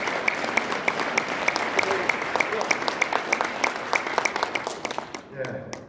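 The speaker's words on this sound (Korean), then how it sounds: "우리 박수 한번 보내주시다" An audience at a Christian organizing rally claps together in a dense, steady round of applause, sharp individual claps standing out, before it fades and stops near the end.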